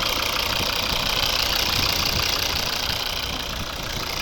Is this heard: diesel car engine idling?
yes